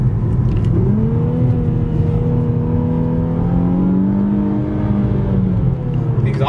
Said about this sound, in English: You can hear the exhaust. Hella deep.